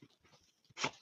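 A small dog gives a few soft whimpers and muffled sounds, then one short, sharper bark-like yelp near the end, close by in a quiet room.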